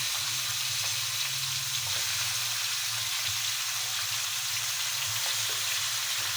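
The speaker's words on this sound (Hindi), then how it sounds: "सबसे पहले मैं इसमें चिकन डाल के फ्राई कर दूँगी" Chicken frying in oil in a kadai gives a steady, close sizzle with a constant hiss over a low hum, and no speech.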